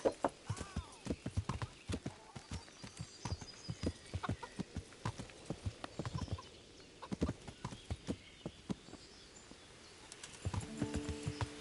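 A horse's hooves clip-clop in an irregular trotting rhythm, close and crisp, with a brief whinny-like sound near the end.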